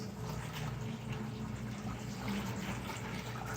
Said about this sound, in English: now we're going to start a siphon